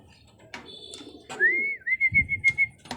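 Racing pigeons come back into their loft after a pooling race, with soft knocks and rustles, a long rising whistle, and a quick run of fluttering wingbeats close by.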